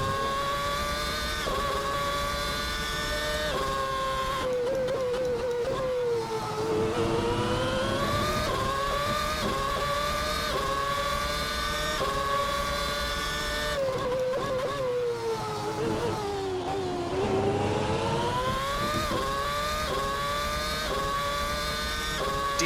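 McLaren MP4/22 Formula 1 car in the racing game Assetto Corsa, its high-pitched engine screaming and rising steadily through the gears, with short dips at the upshifts, loud and continuous with no talking.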